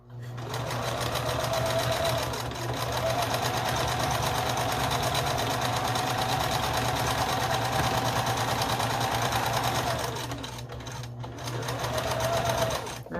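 A sewing machine runs steadily, stitching a scrappy string quilt with two pinned layers, humming continuously with brief slowdowns as it crosses thick seams.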